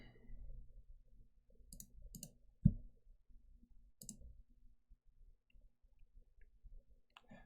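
A computer mouse clicks a few times, small sharp taps spaced irregularly with one louder click near the middle, faint and close against a quiet background.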